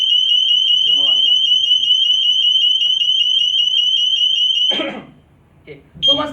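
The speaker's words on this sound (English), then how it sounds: "you heard the beeping sound, right? That means our house got serious gas leaking." A home gas leak detector's piercing electronic alarm beeps in a rapid continuous warble, loud and close, while a voice briefly speaks underneath before it stops.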